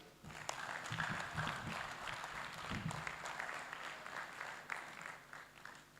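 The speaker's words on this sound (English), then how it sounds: "Can we give Prof a better round of applause?" Applause from an audience at an agricultural summit after a presentation, a moderately faint, even patter of many hands with a few louder individual claps and some low murmuring beneath.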